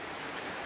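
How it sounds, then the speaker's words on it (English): Steady, dense patter of rain drumming on a cabin roof overhead, a continuous hiss with no voices. "the noise of the rain on the roof is drowning me out"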